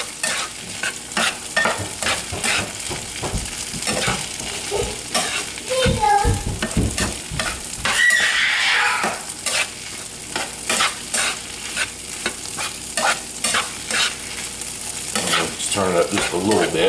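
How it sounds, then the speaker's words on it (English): Breakfast potatoes and hash browns fry in olive oil in a pan, a steady close sizzle broken by repeated scraping and clacking strokes of a spoon or spatula stirring through them. "Kind of give that another stir."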